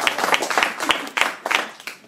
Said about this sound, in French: On applaudit Isabelle